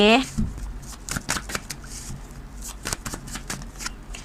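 Tarot cards are shuffled and drawn close by, with rapid riffling flutters followed by a run of crisp slaps and snaps as cards are handled and laid out.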